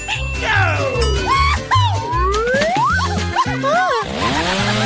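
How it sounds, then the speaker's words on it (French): A saw buzzes as it cuts through a tall stack of food layers, running steadily for several seconds beneath voices and music. "attention, c'est sur le point de tout scier"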